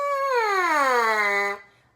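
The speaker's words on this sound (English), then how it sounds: "that is how you buzz on your mouthpiece" A buzzing trumpet mouthpiece, played alone and close, bends upward then slides smoothly down in pitch for about a second and a half before stopping.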